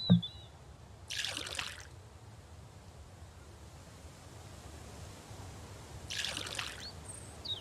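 Flowing water in the video game Myst, a quiet steady trickling wash throughout, with two brief louder splashy bursts, no talking.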